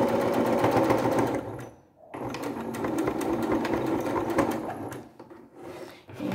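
A sewing machine stitches a short seam in fabric for a dish-towel package, running steadily and close up, pausing briefly near the middle before resuming, with no talk.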